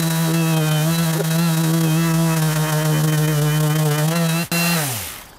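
Makita XGT 40V corded sander grinding deep into a surface, a loud continuous motor drone that holds steady, dips briefly, then winds down at the end.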